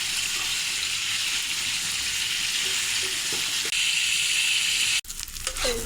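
Sliced pointed gourd fries in hot oil with a loud, continuous sizzle, broken near the end by a sharp clatter as the pieces are stirred.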